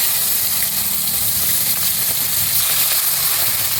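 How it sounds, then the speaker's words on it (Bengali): Cauliflower, potato and beans fry in hot oil in a pan with a continuous, loud, steady sizzle and hiss that runs the whole time without a break. "এবারে আমি ফুলকপি আলু আর সিম ভেজে নেব।"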